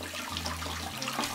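Hot tap water running into a sink while a man rinses his face after a wet shave, a steady close stream with a low hum and splashing, no talking.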